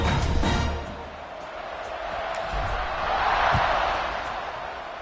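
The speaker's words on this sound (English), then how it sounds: "this crowd is buzzing after that last score" A football stadium crowd buzzes steadily ahead of a kickoff after a score, a broad, loud murmur of many voices that swells and eases, with scattered shouts and a faint thump.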